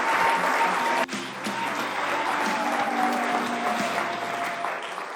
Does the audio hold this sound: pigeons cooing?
no